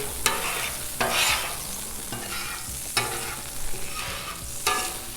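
Butter and onion sizzling on a Blackstone griddle for a Spanish omelette, a steady close hiss punctuated by several scraping spatula strokes at roughly one-second intervals, no talking.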